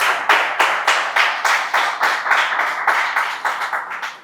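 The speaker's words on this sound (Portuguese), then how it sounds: "Você pode aplaudir o Senhor" Church congregation applauding together, a close, loud burst of clapping that keeps a steady, roughly rhythmic beat throughout, with no voices over it.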